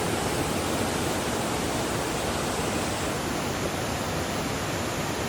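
Steady, dense rush of a mountain valley stream in Sogeumgang Valley on Mt. Odaesan, a continuous broadband roar of flowing water close by with no voices or pauses.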